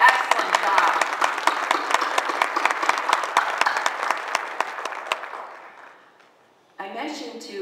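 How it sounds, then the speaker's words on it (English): A round of applause for a team at an academic affairs gathering: many hands clap loudly at first, then thin out and fade to near silence, followed by a short burst of speech. "So how about a round of applause?"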